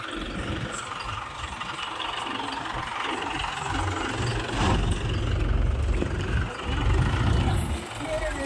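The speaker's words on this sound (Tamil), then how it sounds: "இன்றைக்கி நம்ம வந்து டிராக்டர் ஓட்ட வந்திருக்கோம்" A tractor engine runs steadily and swells louder as it pulls a stuck vehicle out of a hollow, a low rumbling drone heard under people talking.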